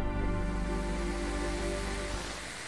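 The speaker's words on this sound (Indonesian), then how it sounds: "mereka menggeser nadanya sehingga kamu dapat mendengar deru Saturnus" Pitch-shifted radio emissions from Saturn recorded by the Cassini spacecraft form a dense, steady roar of layered hum and hiss that fades slightly near the end, with no voices.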